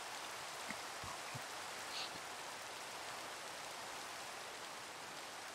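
Soft, steady patter of rain in the video game Minecraft, a continuous faint hiss with a few scattered drop ticks, heard alone without talk.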